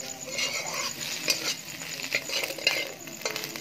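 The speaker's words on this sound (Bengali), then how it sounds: "দেখো এরকমভাবে গ্যাসটা বাড়িয়ে দিয়েছে, দেখো এরকমভাবে ঝুড়ো ঝুড়ো" Egg sizzles as it is stir-fried and scrambled in a hot pan over a raised gas flame for restaurant-style Chinese mixed fried rice, with a steady frying hiss and quick metallic clinks of the spatula against the pan.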